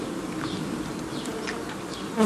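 Dense, steady buzzing of many honeybees swarming close by at an open vertical hive, a continuous droning hum with individual insects flitting past.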